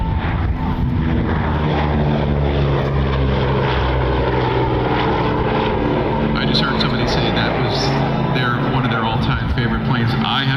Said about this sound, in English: Yeah, you like the P-38? I love the P-38. What a machine.